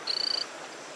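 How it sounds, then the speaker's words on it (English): A single thin, high-pitched frog call trills briefly beside a waterfall in the Rio rainforest, standing out above a steady wash of background noise. "the frogs have developed a high-pitched call, which has become a characteristic sound of the Rio rainforest."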